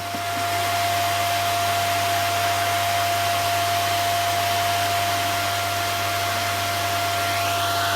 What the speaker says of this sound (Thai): ตอนนี้เครื่องเชื่อมกลับมา ใช้งานได้แล้วครับท่านผู้ชม